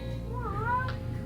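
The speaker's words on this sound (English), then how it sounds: "It's beautiful, this cat." A cat gives a single clear meow, close by, rising and then falling, over a low steady hum.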